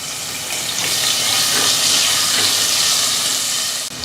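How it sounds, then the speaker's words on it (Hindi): A steady loud sizzle and hiss of finely chopped green chillies frying in hot oil for dal tadka, continuous and close for a few seconds, with no voices. "मिर्चियों को बस हम आधी मिनट ऑयल में फ्राई करेंगे।"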